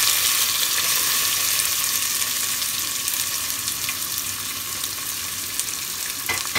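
Onion sizzles and crackles steadily in hot oil in a home kitchen, a loud, even hiss holding throughout with a few sharper pops near the end and no talking.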